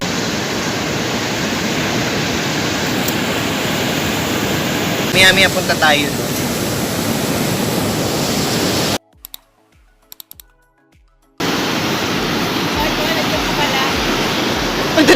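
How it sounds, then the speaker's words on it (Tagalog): Big ocean waves break and wash steadily at a beach in Baler, Aurora, Philippines, on a cold morning after rain, a loud continuous roar. A person speaks briefly over it, and the sound cuts out for a couple of seconds near the end. "Laki ng alon, no?"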